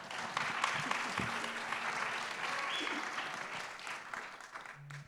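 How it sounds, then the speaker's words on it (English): A crowd gives a warm round of applause for Rosenthal at a journalism forum. The clapping is dense and sustained, holding strong before tapering off near the end. "I would like us to give a warm round of applause to the amazing Rosenthal"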